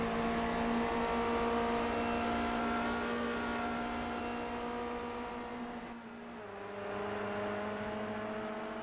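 Onboard engine of a Formula Renault 2.0 in iRacing at Phillip Island, a loud steady high-pitched drone that holds, briefly drops as the revs fall, then climbs again.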